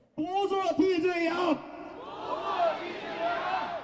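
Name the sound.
crowd of rally protesters crying out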